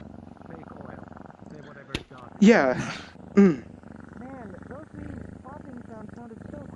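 A cat purring as a low continuous rumble beneath game background sounds, broken by a sharp click and two loud bursts of animal-like noise in the middle, with a brief spoken word.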